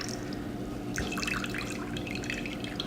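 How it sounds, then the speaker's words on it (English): Water is wrung from cooked spinach wrapped in a kitchen towel. It starts as a sudden splattering, dripping trickle and continues as steady close-up drips over a faint kitchen background. "Now look at all of that water that is coming out of that kitchen towel."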